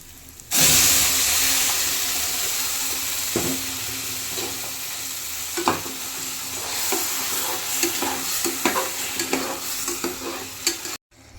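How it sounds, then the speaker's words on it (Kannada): Ground masala paste for a green gram curry hits hot oil with a sudden loud sizzle, then keeps frying steadily while a spoon scrapes and stirs it in irregular clinks and knocks. "ಇವಾಗ ರುಬ್ಬಿರೋ ಅಂಥ ಖಾರನ ಹಾಕೋಣ ಬನ್ನಿ."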